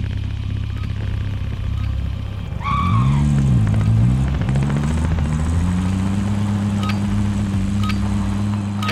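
A car in the Call of Duty: Modern Warfare video game starts up and drives off, its engine revving and rising in pitch, then settling into a steady drone amid faint game sounds.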